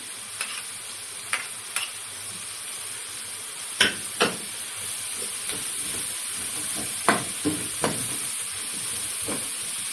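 Onions, peppers and garlic sizzle in a frying pan with a steady hiss, stirred now and then so a few sharp scrapes and clinks stand out over the constant frying.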